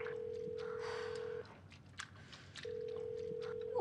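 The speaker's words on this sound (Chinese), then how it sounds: "那斯皮尔不接电话。" A telephone call rings unanswered as a repeated steady ringback tone, two long tones separated by a pause, under faint background sounds and a brief rustle at the end.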